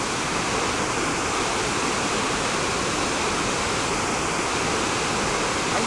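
Waterfall roaring as a dense, steady wash of falling water, loud and unbroken throughout with no voices.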